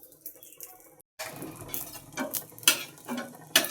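Chicken frying in a home kitchen pan while being stirred, with scraping utensil strokes and a soft sizzle; a brief silent gap early on, then several louder stirring scrapes near the microphone.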